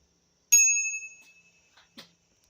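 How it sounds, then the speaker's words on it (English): A bicycle handlebar bell rings once with a bright ding that rings out and fades over about a second, followed by a soft click and a thump, close and otherwise quiet. "Can you ring that bell, please?"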